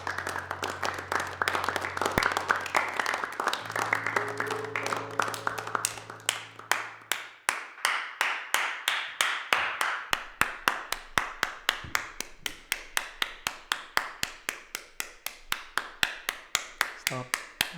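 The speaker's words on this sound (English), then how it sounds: "Stop clapping." A single pair of hands claps in a steady, rhythmic series of sharp, close claps that continue for many seconds, with some speech and a low hum early on.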